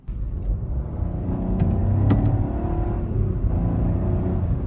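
A new budget SUV with a very slow automatic transmission accelerates steadily, its engine drone and road rumble rising continuously at close range with no clear shift breaks.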